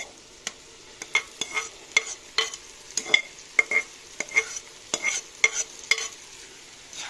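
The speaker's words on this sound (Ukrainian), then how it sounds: "Зажарку нашу трішечки поперчимо, трішечки солі і відправляємо наші грибочки сюди." Mushrooms tipped into a hot frying pan of sautéed vegetables seasoned with pepper and salt, with a spatula scraping and stirring in sharp rhythmic strokes over a soft sizzle, close and clear.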